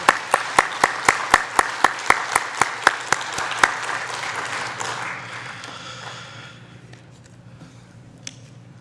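A church congregation applauds the Hosanna choir: sharp, evenly spaced claps beat in a steady rhythm, then spread into a fuller wash of applause that fades away.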